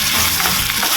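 Tomatoes sizzling as they fry in hot oil in a pan, a loud continuous crackling hiss that stays steady and close.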